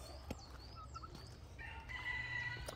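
Chickens cluck and a rooster crows at a poultry yard, with a turkey among the birds, calls scattered and overlapping at close to moderate distance over a steady low background rumble.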